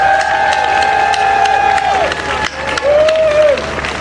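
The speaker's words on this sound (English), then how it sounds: "Let's give them a big round of applause." An outdoor crowd at a London rally stage show applauds and cheers, with sustained whoops and shouted voices over dense clapping, loud and close.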